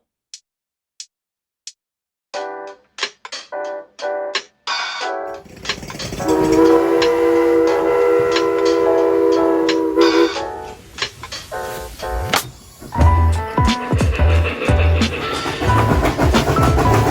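A Lionel Legacy Amtrak F40PH model locomotive starts up with a few sharp clicks, then sounds a loud sustained horn over a rumbling motor, followed by rattling running noise and clacking wheels up close.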